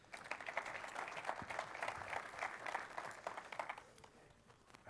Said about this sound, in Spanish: Un aplauso y que empiecen cuando quieran.